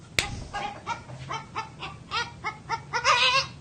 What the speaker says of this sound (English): a goat that sounds like a chicken.